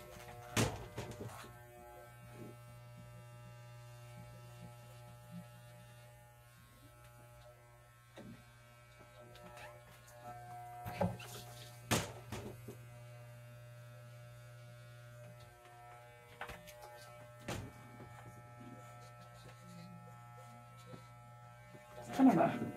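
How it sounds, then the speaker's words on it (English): Electric razor buzzing steadily as it trims hair on the neck at home, a low constant drone with mains-like hum, interrupted by sharp handling clicks and soft talk. "Kind of a nutso thing to be shaving your own neck."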